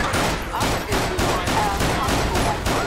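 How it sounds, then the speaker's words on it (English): Rapid gunfire in the LSPDFR police video game on a night shift, a dense, loud fusillade of repeated shots fired in quick succession with no break. "Shots fired."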